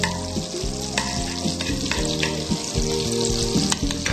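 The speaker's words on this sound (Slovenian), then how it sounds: "U lonac dodamo maslac, maslinovo ulje, pričekamo da se maslac rastopi" Butter and olive oil melt and sizzle steadily in a pot, a close, continuous frying crackle with a few louder pops and clinks scattered throughout.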